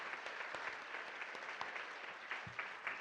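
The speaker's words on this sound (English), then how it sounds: "just give them all one more round of applause" An audience at a leadership award ceremony gives a round of applause, a steady, moderately distant patter of many hands clapping throughout, with occasional sharper individual claps standing out.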